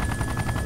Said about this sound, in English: The fully lit chopper running through the dark.